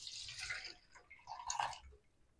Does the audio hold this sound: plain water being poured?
yes